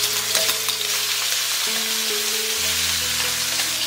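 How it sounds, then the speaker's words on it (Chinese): Chicken wings searing in a wok of hot oil, a steady close sizzle running throughout with faint low clinks from the pan. "油要稍稍多一点点，锅烧了热一点，再把鸡翅放进来"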